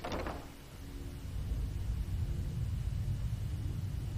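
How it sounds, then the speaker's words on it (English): Skyrim thunder sound effect triggered by a door opening: a brief click at the start, then a low, sustained rolling rumble that swells and holds steadily without voices. "what's supposed to happen when I open this door, we should hear the thunder sound"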